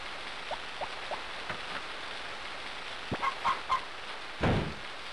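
Soft, scattered clucks from chickens in Harvest Moon: Friends of Mineral Town over a steady hiss of rain, with a few sharper calls and a brief flurry near the end.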